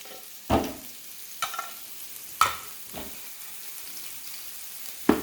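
Corned beef frying in a pan, a steady sizzle broken by several scraping stirs at irregular intervals, close and fairly loud with no talking.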